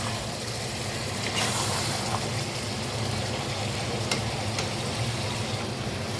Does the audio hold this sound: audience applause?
no